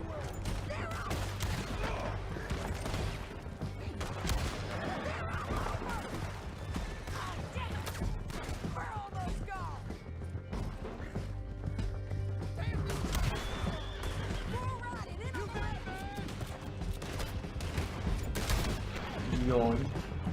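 Horses whinny and hooves clatter in a video game, mixed with bursts and scattered shots of gunfire. The clamor is busy and layered throughout, with sharp cracks rising above the animal sounds.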